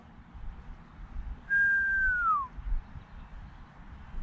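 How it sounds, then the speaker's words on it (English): A person gives a single clear whistle that holds for about a second and then glides downward, heard over a low outdoor rumble. "I'm gonna start whistling."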